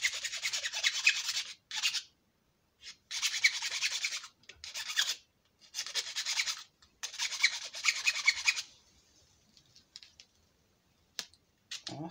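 A small hand file rasps back and forth across the end of cut bamboo or PVC, flattening it in short repeated bursts with brief pauses between them. The rasping is close and fairly quiet, with no talking.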